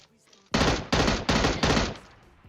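Four loud, evenly spaced shots from a semi-automatic video game gun, each a sharp blast with a short tail, fired about a third of a second apart over roughly one and a half seconds, close and alone.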